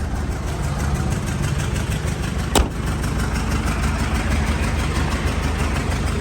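A 2008 Isuzu D-Max pickup engine idles in a steady, loud, close drone, broken once by a brief sharp click partway through.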